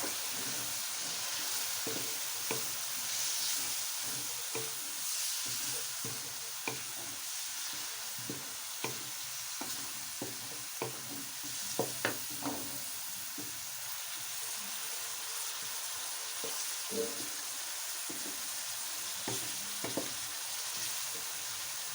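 Potatoes frying and being stirred in a pan as the filling for stuffed capsicum, a steady close sizzle broken by frequent scraping and clattering stirs, with no voices.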